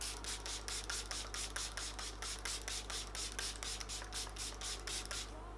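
Quick repeated spritzes from a Jar Cosmetics Slay All Day makeup setting spray bottle, a rhythmic series of short hissing pumps close by, quiet with a low background hum.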